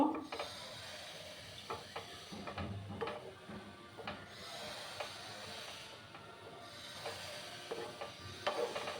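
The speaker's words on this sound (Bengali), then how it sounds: "আমি এটাকে একটু সময় ভেজে নিচ্ছি" Grated fresh coconut fries in a pan on low heat, a soft continuous sizzle with intermittent scraping stirs and light clinks, fairly quiet and close.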